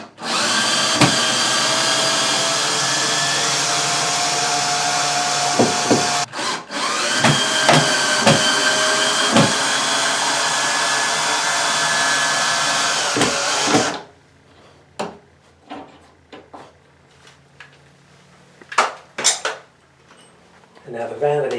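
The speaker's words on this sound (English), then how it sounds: "we're going to actually cut this so we can get everything away without damaging anything" Power saw cutting through a bathroom vanity to free it from the wall, a loud continuous grinding roar for about fourteen seconds with a short break, followed by scattered knocks and clatter.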